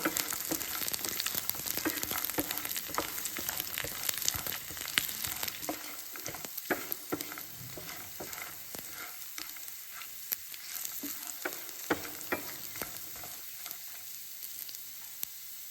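Grated coconut and dried red chillies sautéing in a pan with garlic, a steady sizzle punctuated by frequent scraping stirs and clicks of the spatula, close and continuous throughout.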